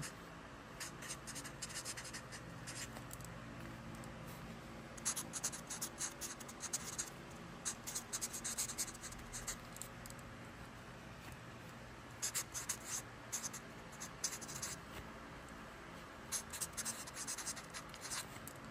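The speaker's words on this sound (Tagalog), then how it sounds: "isulat nyo dito sa taas ang inyong tunay na pangalan" A pen writing a name on paper, close and quiet, with scratchy strokes coming in irregular bursts and short pauses throughout, over faint background hiss.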